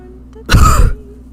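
Arthur Morgan, the Red Dead Redemption 2 character suffering from black lung, lets out one rough, phlegmy cough that lasts about half a second. It stands close and loud over a quiet background.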